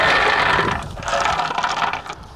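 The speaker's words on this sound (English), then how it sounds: "to keep these holes clear, I'm going to use broken pot shards" Broken pot shards are set into the drainage holes of a planting container, making a loud, close scraping and clattering of ceramic pieces that lasts about two seconds, with no talking.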